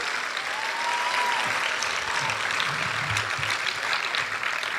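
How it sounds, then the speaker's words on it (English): Audience applause at an arangetram dance performance, a steady sustained clapping from a crowd filling the whole stretch at even loudness. "Let's give another round of applause."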